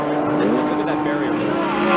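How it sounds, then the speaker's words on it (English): A Corvette race car runs on a track, its engine a steady, loud roar with a slight rising pitch as it drives past, tire and track noise mixed in, with no break over two seconds. "Now here's our Corvette coming back up, just making a pass."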